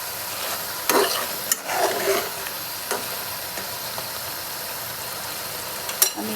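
Hilsa fish curry being stirred in a pan, a steady low sizzle with a few sharp scraping clacks of a utensil against the pan, close by and with no talking.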